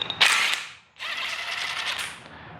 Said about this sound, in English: Now I'm gonna remove the tensioner.